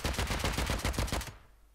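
Rapid automatic gunfire in the video game Rust, about a dozen evenly spaced loud shots in a fast burst that stops abruptly and leaves a faint tail.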